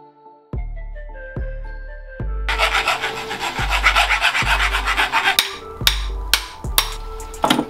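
The head tube area of an NS Decade dirt jump bike is cut to length, with a few sharp knocks followed by a run of rhythmic rasping saw strokes and several louder closing strikes, close and clear.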